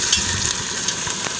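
Onions frying in oil in a pan, a steady close sizzle with a few soft stirring scrapes over the short stretch.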